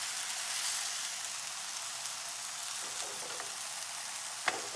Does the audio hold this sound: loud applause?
no